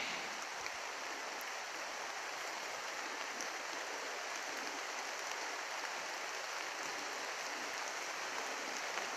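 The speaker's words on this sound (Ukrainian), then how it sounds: "Почав накрапати дощик." Light rain falling outdoors over a potato plot while the rows are being hilled, a steady, even hiss of drops that stays at one level throughout with no voices.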